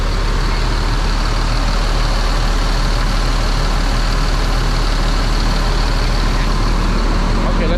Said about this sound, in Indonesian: Ini suara mesinnya nih.